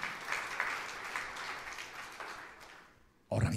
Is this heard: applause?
yes